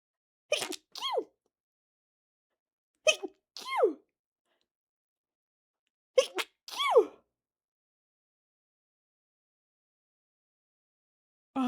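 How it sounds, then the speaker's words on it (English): Three sneezes from a person, each a sharp double burst, spaced a few seconds apart and heard close and clear with silence between them. "It was 3 sneezes."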